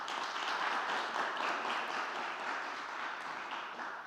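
Audience at a law conference on artificial intelligence in criminal law applauds: a soft, steady wash of clapping from a seated crowd, even throughout and fading slightly at the end.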